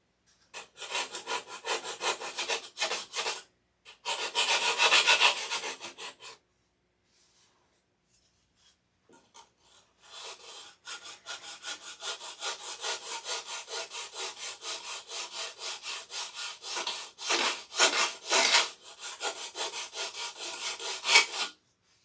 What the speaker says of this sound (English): Get this piece of sandpaper going here.